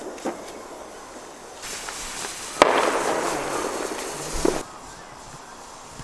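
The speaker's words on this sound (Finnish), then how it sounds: "Pienet raketit on nyt ammuttu." Small New Year's fireworks rockets go off outdoors: a sharp crack, then a sustained hissing whoosh for about two seconds and a pop at the end, followed by quieter surroundings.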